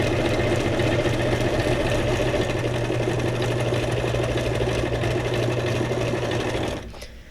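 A sewing machine stitches paper junk journal tags in one steady, loud, close whir with a fast mechanical hum, then slows and stops near the end.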